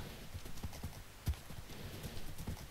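Horse hooves clip-clop in Minecraft as quiet, evenly spaced thuds, with one louder knock near the middle, over a soft continuous background.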